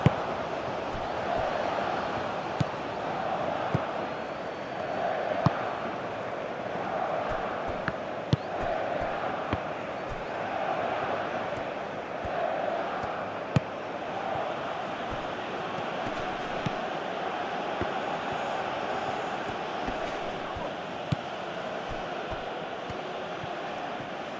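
Stadium crowd in eFootball PES 2021, an Iran vs. Saudi Arabia match, hums as a steady distant roar with occasional sharp ball kicks.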